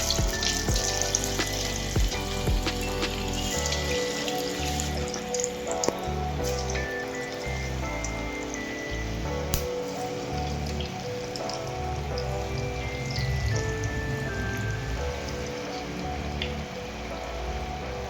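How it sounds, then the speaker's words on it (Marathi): Chakli dough spirals fry in hot oil, giving a continuous, close, crackling sizzle that stays fairly even throughout with small pops scattered across it. "वर आले की चकल्या गॅस बारीक करून तळायचे"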